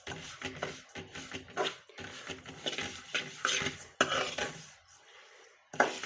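A spoon scrapes and clinks against a metal bowl while honey is stirred into a protein laddu mixture, the strokes irregular and close, with brief pauses between bursts of mixing.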